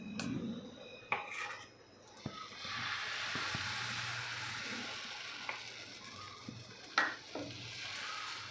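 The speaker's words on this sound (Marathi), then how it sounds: "त्यानंतर आपल्याला पराठ्याचं मिश्रण हे तव्यावर घालून घ्यायचं आहे" Egg paratha batter sizzles on a hot tawa over a low flame, a steady close frying hiss broken by a few sharp clinks and scraping knocks of utensils against the pan.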